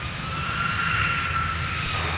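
Twin engines of an Airbus A330-900neo at an airport roar in a steady, dense wash with a thin high whine running through it, loud and close without any voices.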